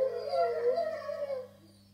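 A long, wavering wolf howl rises and falls for about a second and a half, then fades out, heard alone and fairly close.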